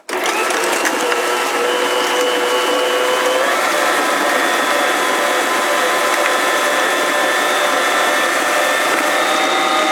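Electric mixer creaming butter and sugar for cookie dough, a loud, steady motor whir that starts abruptly and runs on unchanged with a faint rattle.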